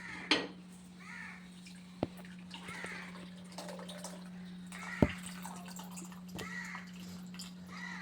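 Tamarind water poured into a sardine curry makes a quiet, trickling pour with a few sharp drips and splashes, heard alone over a faint steady hum.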